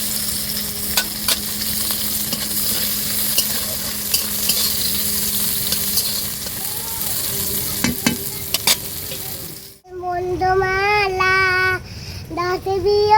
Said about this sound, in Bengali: এই দেখুন উচ্ছেটা ওই তেলে ভেজে নেব